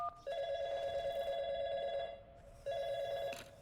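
An electronic telephone rings in the puzzle game Portal 2, two long trilling rings separated by a short pause, steady and clear with no talk over it.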